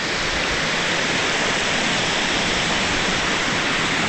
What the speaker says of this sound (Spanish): Este es el mismo río Azusa que lo conocemos.